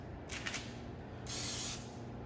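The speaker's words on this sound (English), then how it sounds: "I'm using just some cooking spray." Two short hisses of cooking spray hit a cookie sheet up close, a brief puff followed by a longer, stronger spray over a quiet kitchen background.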